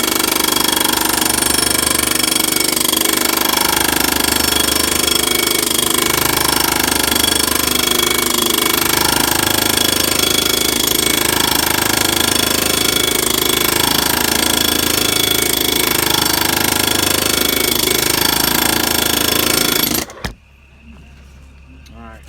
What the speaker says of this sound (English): just keep rolling the air hammer around and keep on working it in until we're completely in